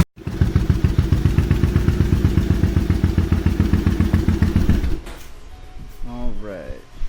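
A Suzuki Marauder VZ800 motorcycle engine runs loud and close with a steady, rapid pulsing thrum for about five seconds, then cuts out, leaving faint clatter and a brief rising and falling whine.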